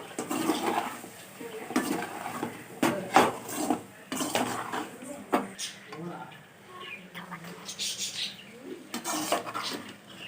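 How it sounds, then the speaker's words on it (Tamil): Pieces of yam are stirred into a cooking pan, with close, uneven scrapes and metallic knocks of a spoon against the pan in bursts. "இந்த வெற்றிலை வெள்ளிக்கிழங்கை சேர்த்துட்டு நல்லா கலந்து விட்டுக்கலாம்"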